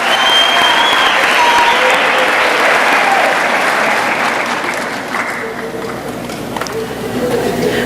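Loud, sustained applause from a large audience at a high school graduation, continuous clapping that eases off slightly toward the end.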